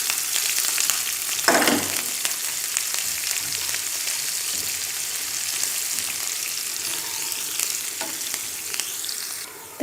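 Green chillies sizzle and spit as they drop into cumin tempering for masoor dal, a steady close frying hiss with a few stirring scrapes throughout and a brief louder crackle early on.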